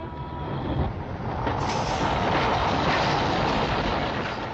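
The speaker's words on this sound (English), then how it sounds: "the brakes go on automatically." Railway train in the 1963 era of steam-to-diesel change, with brakes going on automatically under a warning system: a steady, loud rushing and rumbling of moving rolling stock with a hissing rise partway through, no voices.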